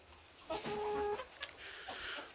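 Buff-colored roosters and hens making soft clucks and a short tonal call, fairly close and moderately loud, with a few brief scratchy noises around them and no talking.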